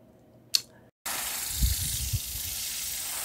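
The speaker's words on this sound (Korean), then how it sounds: "마늘, 양파밭에 지금 물을 주고 있습니다" Water spraying or hissing steadily across a garlic and onion field in spring, a continuous broadband rush that starts abruptly after a brief sharp sound, with low rumbling underneath.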